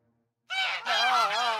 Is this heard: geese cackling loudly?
yes